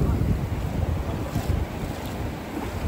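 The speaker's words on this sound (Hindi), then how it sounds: "ये देख लीजिए लहरें तो ठीक ठाक ही है।" Ocean waves roll in at Bokkhali beach, a continuous low rumbling wash heavily mixed with gusting wind buffeting the microphone outdoors.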